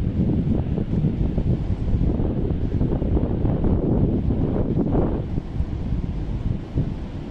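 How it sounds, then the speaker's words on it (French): Strong, gusty wind roars and buffets continuously on the Atlantic Ocean shore, with a low rumbling rush of open sea air and no voices. "Imaginez le vent qui souffle sur votre visage"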